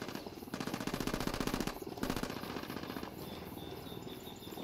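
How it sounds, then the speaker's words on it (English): Rapid automatic gunfire from Tom Clancy's Ghost Recon Wildlands, a tactical shooter game, rattling in dense sustained bursts with a brief pause, loud and close, over a faint insect-like background hum. "Opening fire."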